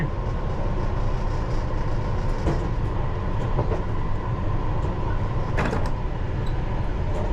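A London Underground Piccadilly line 1973 Stock train climbing uphill at moderate speed, heard from inside as a steady loud rumble with motor whine, occasional clicks and rattles over the track.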